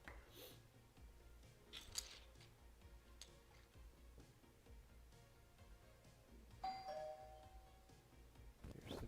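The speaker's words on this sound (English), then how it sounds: "Here's the doorbell." A doorbell sounds a few times in a quiet room, faint chimes and a brighter ringing tone near the end, with soft clicks and small handling noises in between.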